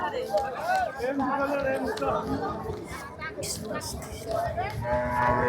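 At a busy cattle market in Rajshahi, a large cow lows and other cattle call amid a crowd's steady chatter, with the moos rising near and loud over the voices.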